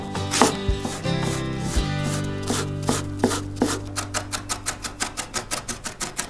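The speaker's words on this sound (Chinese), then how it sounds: "最后再取50克大葱，切碎备用" A knife chops 50 grams of leeks or scallions on a cutting board for dumpling filling. Uneven strokes speed up into a steady, even rhythm of crisp knocks over background music, with no talking.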